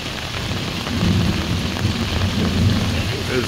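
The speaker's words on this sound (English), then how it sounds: "It's coming down. Nice little thunderstorm here." Heavy rain pours down during a thunderstorm at a monsoon campsite, a loud continuous downpour with low rumbling thunder swelling and fading underneath.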